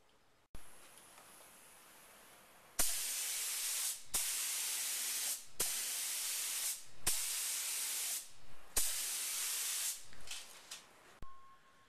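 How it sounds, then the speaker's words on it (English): Black spray paint from an aerosol can applied to Kawasaki KZ1100 motorcycle side panels in several close hissing bursts, each a few seconds long with short gaps between. "Spray it all down with black and then peel them off."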